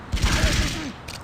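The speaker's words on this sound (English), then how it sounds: "get hit by unavoidable gunfire" Rapid bursts of gunfire from enemies in the shooter Blood 2, a quick rattling volley lasting about a second with a short extra burst at the end, fairly close and sharp.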